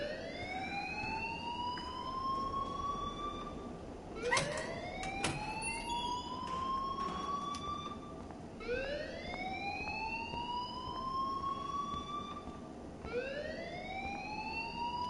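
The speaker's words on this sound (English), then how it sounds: "please turn off that alarm since that's your job" A wailing electronic alarm siren in Life is Strange sweeps upward repeatedly in long, rising tones about every four seconds, loud and steady with no talking over it.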